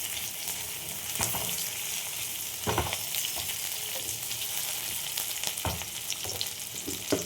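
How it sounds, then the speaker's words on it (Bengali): Potato and onion pieces frying in a pan, a continuous close sizzle with occasional stirring scrapes and clatters, no voices. "দেখো আলুগুলো মোটামুটি ভাজা হয়ে গেছে, আর ভাজবো না, নাহলে পেঁয়াজগুলো পুড়ে যাবে।"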